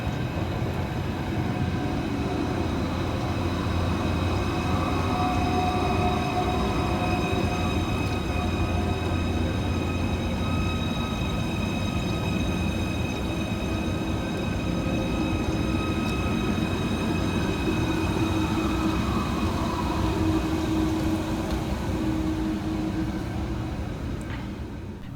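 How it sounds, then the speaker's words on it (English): A Merseyrail electric train arriving to terminate at Liverpool Central, with a steady loud rolling hum and faint brake and wheel squeals rising toward the end. "Whilst arriving to terminate with a Merseyrail electric service off Liverpool Central"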